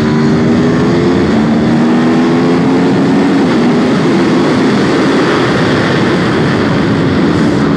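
A 2021 Aprilia RSV4 Factory sport motorcycle gives a loud, sustained engine roar with a rising whine as it re-accelerates, accompanied by heavy wind noise, close and continuous.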